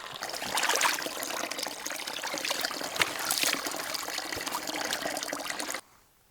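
Cool mountain water trickles and splashes steadily while being filtered outdoors, a close, continuous dribbling that stops abruptly near the end.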